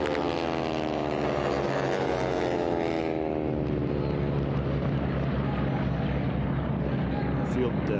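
T6 aircraft racing around pylons at an air race, a loud continuous propeller engine drone with a falling pitch as the planes pass, with a commentator talking over it.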